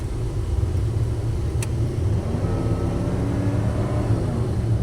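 A one-owner 1988 Chevrolet Silverado with a 5.7 V8 and 40K miles cruises down the road, its steady low engine drone and road rumble heard from inside the cab, with a gentle rise in pitch midway.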